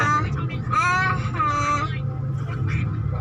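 Steady low engine rumble from cars stuck in a traffic jam on a steep uphill mountain road near the monkey-feeding spot at Khao Sam Muk on a stormy day, heard from inside a car beneath someone talking.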